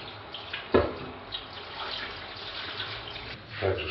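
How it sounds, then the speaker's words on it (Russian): Warm tap water runs steadily over computer parts being washed by hand, a soft continuous splashing hiss with a couple of sharper clunks of hardware against the sink, close and moderately quiet with no talk. "Моем также под струей для теплой воды."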